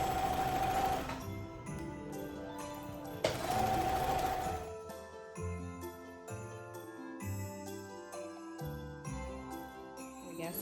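A sewing machine stitches the seam of a Christmas stocking with a half-inch allowance, its motor running in steady bursts with brief pauses between, while light jingling music plays underneath.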